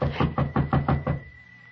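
Knocking on a door as a radio drama sound effect: six evenly spaced, firm raps in quick succession, close and clear, then the sound stops and leaves quiet room tone.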